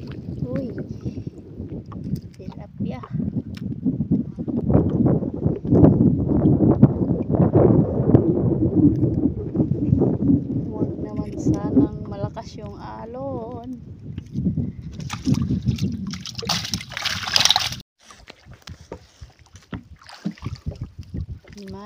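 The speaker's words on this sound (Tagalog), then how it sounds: "Hey, malakas na yung hangin. Mapalakas na rin yung alon." Strong gusts buffet the microphone from a small boat on a choppy lake, with wave slaps and sloshing water, while someone talks loudly over the rushing wind throughout.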